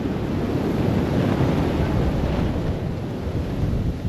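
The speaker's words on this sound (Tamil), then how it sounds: "விசு விசு விசு விசுன்னு காற்று, கொடியாடுற சத்தம்." Strong wind blows steadily at a Buddhist temple, a loud, continuous rushing roar with temple flags flapping in it and no voices.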